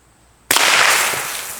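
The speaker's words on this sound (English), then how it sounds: "I'll shoot the green one on the bottom and see what it does" A firearm shot hits a green 2-liter plastic bottle, and a single loud, sharp bang breaks the quiet, followed by a short burst of spray and rattle that fades over about a second.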